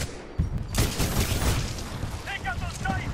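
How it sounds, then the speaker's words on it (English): Gunfire in Titanfall 2 breaks out as a sudden burst of shots, followed by continuous shooting with a booming background. A voice talks over it, and beeping game sounds come in near the end. "Where's that shooting coming from?"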